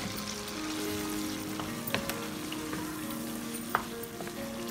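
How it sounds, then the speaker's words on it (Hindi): Ground cumin, nutmeg and mace powder frying in a pan for chicken korma, a steady close sizzle with a few sharp clicks of a utensil against the pan. "दो मिनट के मैं इसको ऐसे ही भूनूंगी"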